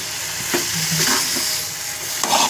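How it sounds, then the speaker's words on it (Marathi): Prawns, cashew kernels and potato sauté in a masala of turmeric and spice paste, giving a steady close sizzle with scraping stirs and a few soft clinks, no voices over it. "मग आता मस्तपैकी मसाल्यामध्ये प्रॉन्स, काजूचे गर, बटाटा वगैरे परतून घेतलं आहे"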